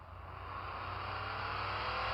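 Race car engine in a mobile racing video game revving steadily and loudly, a continuous rising roar with no voices.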